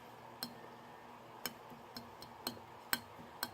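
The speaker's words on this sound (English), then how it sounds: "It's kind of a dull sound when I tap my fingernail against it." A fingernail taps a stainless steel knife six times at an uneven pace. Each tap gives a faint, short, dull tick over a quiet room hum, with no speech.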